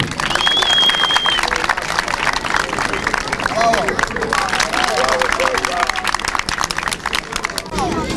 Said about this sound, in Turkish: yüksekçe bir alkışlar mıyız?